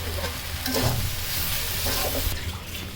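Noodles and pasta stirred in a pan after soy sauce is added, a close, continuous sizzle and hiss with soft scraping strokes of a spatula.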